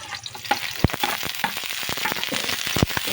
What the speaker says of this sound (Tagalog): Pwede nang ihalo ang garlic.